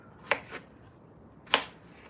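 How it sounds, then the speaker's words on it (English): Knife roughly chopping fresh strawberries on a cutting board, three distinct crisp cuts: two close together near the start, then a single louder chop after a pause, with quiet room tone between. "I'm just going to rough cut them and drop them in this measuring bowl here"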